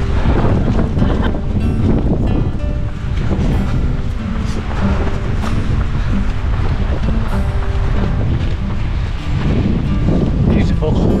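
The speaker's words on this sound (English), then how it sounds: "This wind is punchy though." Strong, gusty wind buffets the microphone during a marathon run at Loch Rannoch in October, a loud continuous rumbling roar with bursts of heavier gusts, with no talk over it.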